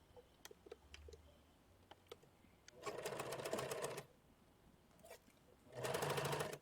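A sewing machine stitches across the lower edge of a skirt placket in two short bursts, each a rapid, even mechanical chatter lasting about a second, separated by light clicks and fabric handling in a quiet room.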